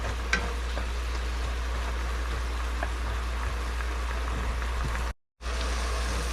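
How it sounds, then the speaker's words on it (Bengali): Masala spices sauté in a pan for chana bhatura with a faint, even sizzle and hiss over a low hum. It runs continuously, with a short dropout near the end, and there is no talking. "একটু কষাতে হবে"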